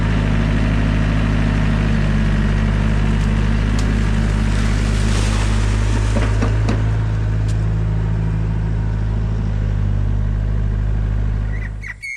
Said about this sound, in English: I certainly wasn't expecting this much water to rise overnight and start flowing like this